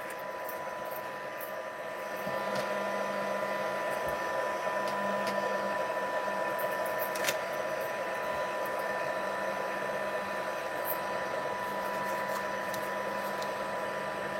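An embossing heat tool blows hot air over card in a steady, continuous whir that grows slightly louder after a couple of seconds and holds evenly, close by, with no talking.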